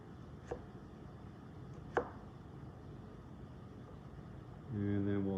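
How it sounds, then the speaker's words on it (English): A knife cuts thin slices of carrot on a board, with two sharp, separate chops spaced about a second and a half apart over a quiet room, followed by a steady low hum near the end. "I'm going to go ahead and slice this guy up."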